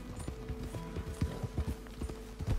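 A horse gallops in the Red Dead Redemption 2 video game, its hooves thudding in a quick, steady, repeated rhythm over a low background hum, moderately loud and close.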